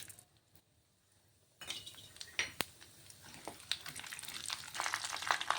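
Lentils, mustard seeds and cumin hit hot oil in a pan after a quiet start, then a rising sizzle and crackle with metallic clinks of a utensil against the pan.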